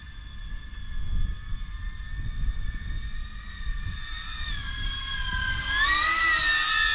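A Catalyst Machineworks Whoopmaster 4 drone flies, its high, steady motor whine holding several tones that rise and shift in pitch toward the end, over low rumbling wind noise with no talking.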